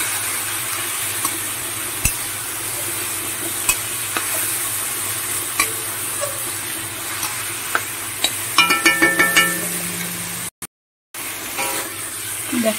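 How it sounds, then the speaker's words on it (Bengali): Masala frying with onion as chopped tomato goes in, a steady sizzle with repeated clicks and scrapes of a spoon stirring the pan, close up and without talk, broken by a brief silent gap near the end. "পেঁয়াজের সাথে মশলাটা ভালো করে ভাজা ভাজা করে নেব। আর তার সাথে এই কুচনো টমেটোটা দিয়ে দিলাম।"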